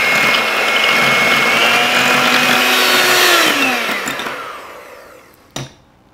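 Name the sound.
electric hand mixer whipping cream into stiff peaks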